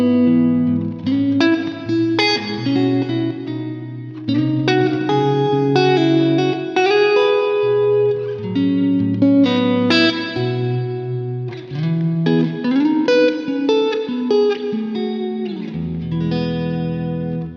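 Novo Serus T electric guitar played clean with generous reverb, a run of ringing chords and single notes that bloom and trail off into a wash of echo, steady and close, with no talk.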